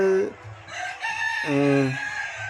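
Chickens and roosters on a riverside poultry farm of about 2000 birds: a close rooster crows twice, long and loud, amid scattered clucking and distant fowl calls.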